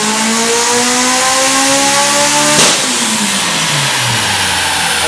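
A turbocharged car with a front-mounted intercooler on a dyno pull, the engine note climbing loudly and smoothly to a peak, then the throttle lifting with a sharp burst and a falling, winding-down tone.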